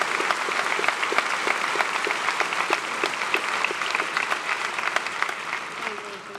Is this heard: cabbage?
no